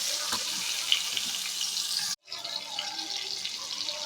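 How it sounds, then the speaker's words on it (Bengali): Tomato fries in hot oil with five-spice (panch phoron) while being stirred, a soft continuous sizzle with a light scrape, broken by a brief gap before the hiss resumes. "আমি টমেটোটা নাড়াচাড়া করে নিয়েছি।"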